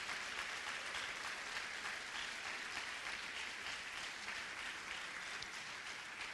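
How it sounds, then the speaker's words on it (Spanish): Church congregation clapping as an offering of praise during a sermon, a dense, continuous roar of many hands that stays even and quiet throughout, with no voices over it. "Denle esa ofrenda de palmas fuerte, hermano, al bendito Señor de gloria."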